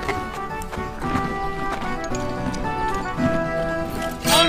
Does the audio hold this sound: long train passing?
no